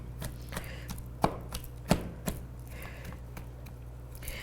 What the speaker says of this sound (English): So now you're just chopping garlic and rosemary?